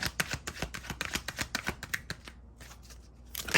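Tarot cards being shuffled by hand in quick, crisp riffling bursts that run steadily for about two seconds, pause briefly, then start again, close and fairly quiet.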